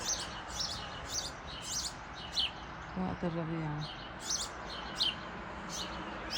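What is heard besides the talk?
birds chirping outside window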